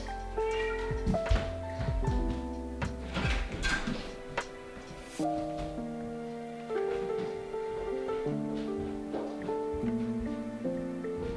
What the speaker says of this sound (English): And whiny cat has been removed.